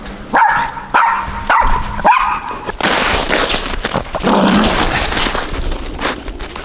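A dog barks several times in quick, loud, close bursts with short whimpering yips during a morning walk, followed by steady outdoor noise with rustling and footsteps.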